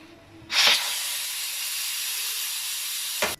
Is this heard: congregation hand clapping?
no